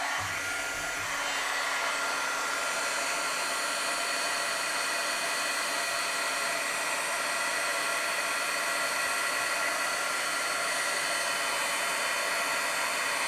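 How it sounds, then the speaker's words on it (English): Heat gun blowing hot air during a crafting session, a steady loud broadband whoosh held throughout, close and uninterrupted, with no talking. "Okay, heat gun again."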